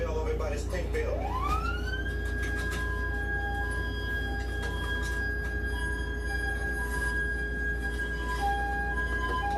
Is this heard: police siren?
yes